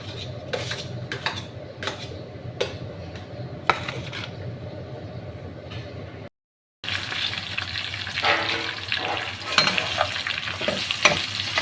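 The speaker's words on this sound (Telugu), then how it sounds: "జీలకర్ర, ఆవాలు, తిరువాత గింజలన్నీ వేసాను." Cumin and mustard seeds fry in hot oil with green chillies, a close crackling sizzle with spoon scrapes and pan clatter, a brief silent gap, then louder frying and stirring, no voices.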